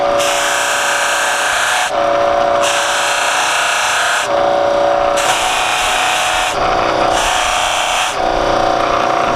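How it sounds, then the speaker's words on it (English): A chisel is honed to a razor edge with an air die grinder. Loud, continuous abrasive whirring comes in several long passes separated by brief changes in pitch, with no talk. "I take my chisel and just with a couple passes, I'll be able to hone a razor sharp edge"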